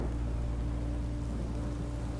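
Steady rain falls in the Minecraft video game as a continuous, even wash of broadband hiss with a low rumble underneath, no voices over it.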